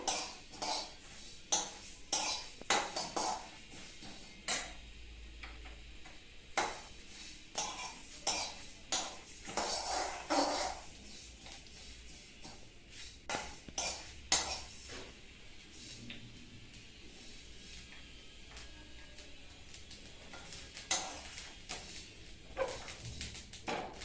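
Black and white mustard seeds stir in a hot kadai for raw mango pickle, giving repeated scraping, clinking spoon strikes against the pan in irregular bursts with a faint sizzle beneath.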